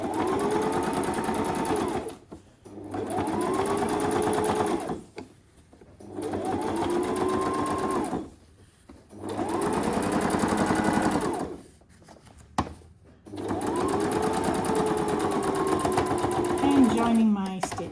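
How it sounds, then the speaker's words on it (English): A sewing machine stitches around fabric curves in five long runs of rapid mechanical whirring, each separated by short pauses, loud and close with no talking. "I am now going to carefully just sew and finish the curves."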